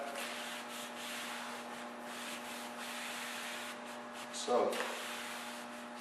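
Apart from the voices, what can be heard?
rag wiping excess stain off a solid wood door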